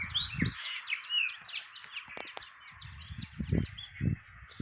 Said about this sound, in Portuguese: Bonito ver os pássaros cantando.